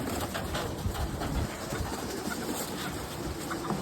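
Fifteen pigeons coo softly and continuously over a steady, dense background hum, several birds murmuring at once close by.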